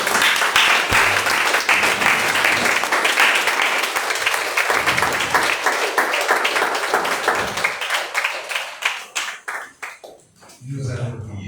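A church congregation bursts into sustained, loud applause that holds steady and then thins into scattered claps before fading, with voices murmuring underneath.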